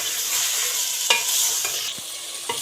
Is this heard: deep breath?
no